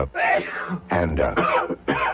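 A run of four rough, throaty coughs in quick succession, close and fairly loud, with short pauses between them.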